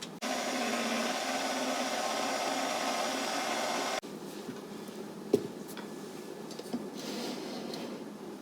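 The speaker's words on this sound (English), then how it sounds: "I'm going to switch the mixer from a whisk to a paddle, and we're going to whisk in this, not whisk in, but paddle in this flour." A stand mixer with a paddle runs steadily, working flour into a loose, wet zeppole dough, its motor whirring loudly before easing to a lower, softer churn with a few light knocks against the bowl.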